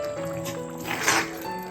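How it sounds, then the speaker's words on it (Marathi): A little water is poured into a vegetable curry cooking in a pot. A soft liquid trickle swells briefly into a splash near the middle, then fades against faint background hum. "थोडस हलकस पाणी घालतोय"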